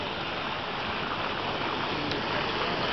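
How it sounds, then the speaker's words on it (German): A swimmer churns the water of a five-star hotel pool while doing laps, making a continuous close wash of splashing with no voices. "Pool jetzt mal genießen und ein, zwei Bahnen ausgiebig schwimmen"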